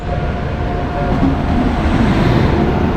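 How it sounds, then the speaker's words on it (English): An Indian sleeper-class train pulls into a station on the Goa to Kerala route, a steady, loud rumble and rolling rail noise with faint squealing tones, close by and continuous throughout. "Train is here"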